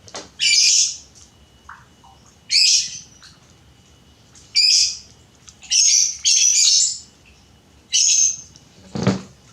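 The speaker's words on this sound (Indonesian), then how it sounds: "Kalau ada suara burung, mudah-mudahan nggak mengganggu." Several bright, high bird calls come in short bursts with pauses between them, standing alone against a quiet background, and one lower squawk arrives near the end.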